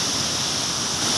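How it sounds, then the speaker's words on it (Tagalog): Small waterfall flowing down toward a river in Geiranger, Norway, a loud, steady rushing of water, even and continuous without any voices. "Mini falls na to."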